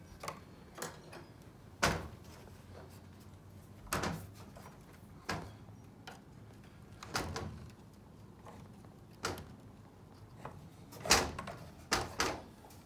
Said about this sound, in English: get some smaller flathead screwdrivers and just carefully pry this out of the corner